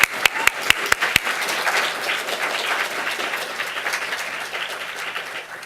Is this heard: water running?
no